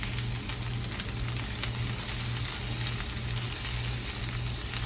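Onions sweating in a frying pan give off a soft, steady sizzle with a constant low hum beneath it, close and even throughout.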